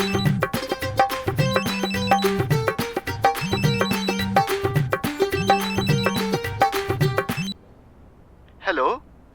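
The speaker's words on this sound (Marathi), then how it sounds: "फोन आलाय तुमचा." A repeating electronic phone ringtone plays loudly in a melodic looping pattern for several seconds, then stops, followed by a brief faint voice.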